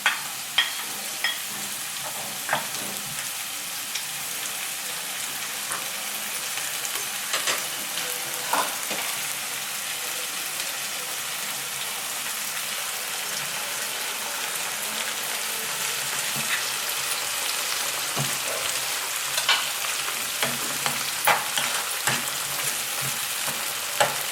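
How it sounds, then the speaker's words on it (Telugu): Tomato pieces fry in hot oil with vegetables for biryani, a continuous dense sizzle broken by sharp scraping clicks as a spoon stirs the pan, close and without talk. "నూనెలో వేగడానికి కాసేపు కలియబెడుతూ ఉండాలి. ఈ టమాటా ముక్కలు కూడా వేసేయాలి."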